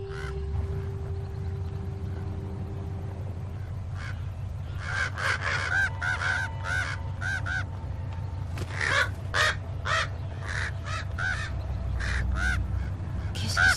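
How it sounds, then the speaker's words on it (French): Crows caw around a church in a series of harsh, repeated calls, some in quick bursts and some spaced apart, heard fairly close over a steady low rumble of wind or traffic. "Qu'est-ce que c'est que ces corbeaux tout autour?"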